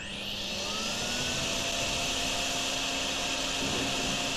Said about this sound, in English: this time I'm going to use a hoover.